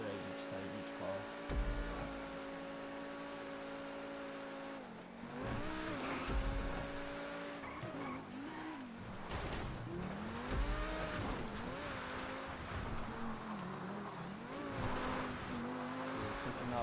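Gameplay engine roar of a T20 supercar racing around a track in GTA V, with sustained high revs that rise and fall through gear shifts and corners, alongside occasional tire squeal and someone talking over it.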